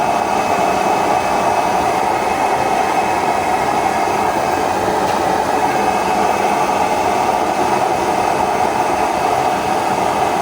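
An automatic stove burning waste oil roars steadily after being turned up, a loud, close, continuous rushing flame noise with no talking.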